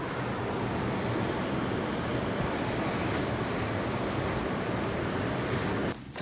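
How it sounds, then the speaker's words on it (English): Sea waves break and wash continuously in a loud, broad roar of surf with some wind, close and unbroken until a brief dip near the end. "Let's give them a moment to listen to the sea."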